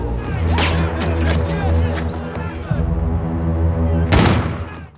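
Gunfire from a sniper-film shootout, rapid sharp shots with a dense burst near the end, layered over continuous loud score and effects throughout.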